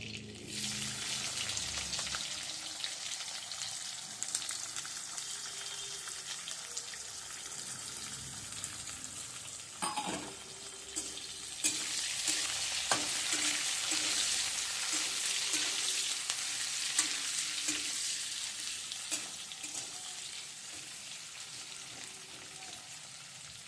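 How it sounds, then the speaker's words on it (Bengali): Chopped onions dropped into hot oil in a pan, a steady bright sizzle and crackle throughout, with faint stirring and scraping clinks near the middle, close up and with no talking. "এবার এর মধ্যে আমি দিয়ে দেবো কেটে কুচুনো পেঁয়াজগুলো"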